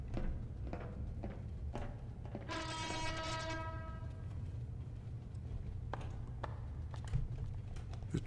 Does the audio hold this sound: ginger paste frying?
no